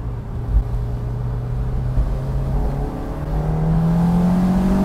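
A Honda S2000 engine revs steadily upward toward redline, the tone climbing smoothly and growing louder, close and alone without talk.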